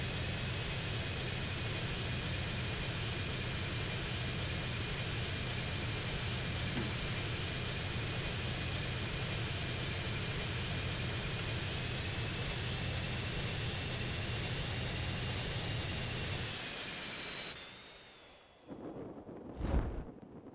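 A fixed-wing aircraft engine in GTA San Andreas – The Definitive Edition gives a loud, steady jet-like drone with a high whine held for about seventeen seconds, then cuts away, leaving a brief louder burst near the end.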